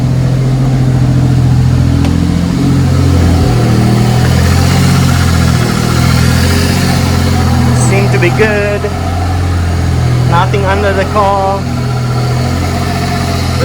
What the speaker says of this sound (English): Turbo spinning on idle.